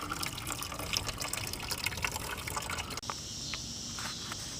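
Coolant drains steadily out of a Ford Focus during a coolant flush. The trickling and splashing is continuous and fairly loud, with a slight change in tone partway through.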